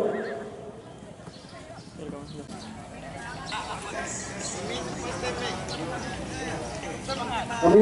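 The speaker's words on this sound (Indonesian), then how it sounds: "Bersiap untuk kuda race yang kedua." Horses galloping in a traditional draft horse race at Padang Pariaman, a steady rumble of hooves beneath a crowd's babble and an announcer's voice, building louder toward the end.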